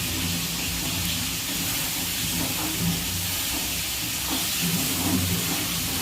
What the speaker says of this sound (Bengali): এই দেখুন, মাছগুলো এখন ভাজা চলছে।